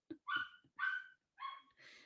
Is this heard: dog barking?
yes